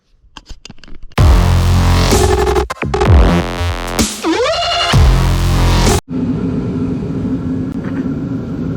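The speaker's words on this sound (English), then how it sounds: "Sorry for the noise. I got the heat going over here." A loud, roaring blower hum runs continuously, broken by a few sharp clanks and shifting whines, then settles into a steady whooshing drone.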